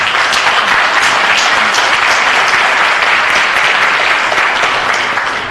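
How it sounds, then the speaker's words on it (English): An audience at a city council meeting gives sustained applause, an even, loud wash of many hands clapping together that holds steady throughout. "So I believe that deserves a round of applause for Bear Paint."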